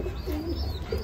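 Mili racer pigeons coo softly nearby, a low wavering murmur with a brief higher chirp near the end, with no voices.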